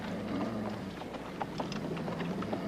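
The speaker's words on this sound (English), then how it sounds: "That there's Trooper Mills's horse." Horse hooves clip-clop faintly at a steady pace over a low rumbling background, with no voices.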